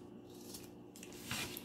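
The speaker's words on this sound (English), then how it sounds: "now I'm going to cut them down into squares." Scissors snip through paper strips, cutting them into squares for a mosaic craft, a few quiet close crisp cuts in a near-silent room.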